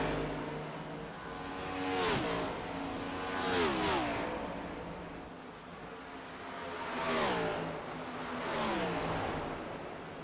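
NASCAR stock car engines in the iRacing video game rise and fall as several cars roar past in turn, with sweeping pitch changes over a steady mechanical hum.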